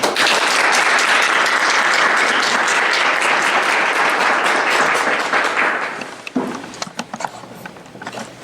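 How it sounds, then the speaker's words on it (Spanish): An audience gives a loud, full round of applause to welcome a speaker, dense clapping from many hands that holds steady and then thins out into scattered last claps. "les pido a ustedes la recibamos con un fuerte aplauso"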